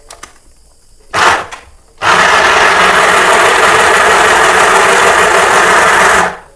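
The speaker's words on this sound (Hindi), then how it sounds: "ये वाला स्विच जो सेकंड वाला स्विच है, इसको प्रेस करने से भी हमारी सिलाई होगी" A mini sewing machine runs when its second switch is pressed to stitch. After a short whirring burst, it settles into a loud, steady, close mechanical buzz for about four seconds and then stops.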